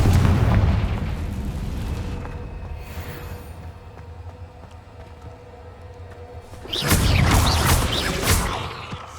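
The Confringo fire spell in Hogwarts Legacy fires off in heavy explosive booms. A loud blast opens, then a rumbling lull follows, and a second crackling burst erupts near the end.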